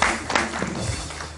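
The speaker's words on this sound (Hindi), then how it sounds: "इनकी बहुत सारी तालियां" Studio audience applause on a TV morning show: a short, brief burst of clapping that fills the room at moderate level, with no one talking over it.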